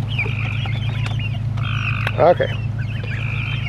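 Chickens and geese climbing a roost ladder into a coop make scattered clucks and a brief honk-like squawk near the middle over a steady low hum, and one person speaks briefly.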